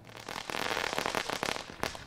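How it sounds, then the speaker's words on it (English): Firecrackers are set off outdoors to start a small virtual charity race from a driveway, a rapid, loud string of sharp crackling pops that bursts densely for about two seconds. "Firecrackers signaled the start of the race, and they were on their way."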